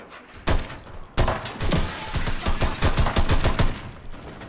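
Sniper fight in a video game: after a brief lull, dense gunfire erupts and keeps going in rapid, overlapping bursts of loud shots for several seconds, with no voices.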